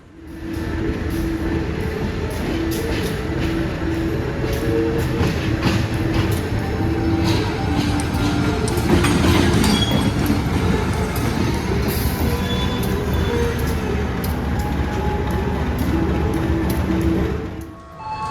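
Steady rumble of the Fajar Utama Jogja train idling at platform 5 of Yogyakarta station, with a constant hum and scattered clanks, announcements-like tones and faint background activity.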